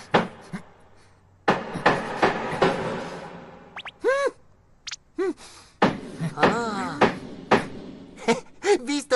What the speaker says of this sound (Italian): Non puoi usare il martello agitando solo il polso, devi usare tutto il braccio!